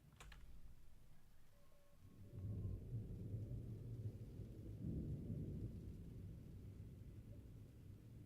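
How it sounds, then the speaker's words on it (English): Thunderstorm in the Gold Mining Simulator video game: a steady low rumble of thunder and rain that swells into louder rolling peaks partway through, with faint clicking near the start. "The stupid storm's still on."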